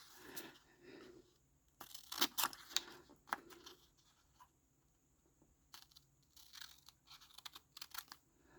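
Scissors cut paper for a small handmade Valentine's card, making several crisp, close snips and crunchy slices in uneven bursts between quiet pauses and faint paper handling.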